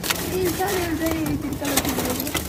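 Pigeons coo softly in a pigeon shop, a low warbling call rising and falling twice among busy background chatter and clatter.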